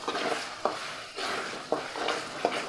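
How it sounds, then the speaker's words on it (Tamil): Chicken curry is stirred in a pan over the heat, with a continuous low sizzle under repeated scraping strokes and sharp utensil clinks against the metal about every second; no one speaks. "அடி பிடிக்காமல் கலந்து விட்டுக்குவோம்."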